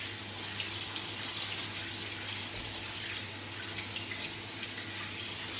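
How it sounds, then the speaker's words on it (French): Water runs steadily into a Thermomix bowl as rice is rinsed, giving a continuous broadband splashing hiss of moderate, even loudness with no speech. "vous pouvez rincer votre riz aussi directement dans le bol du Thermomix"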